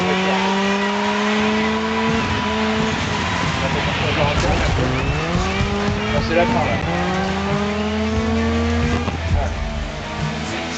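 Rally cars in the Dirt 5 racing game roar with rising and falling engine revs, tire squeal and skidding throughout, loud and continuous, with someone briefly talking over it.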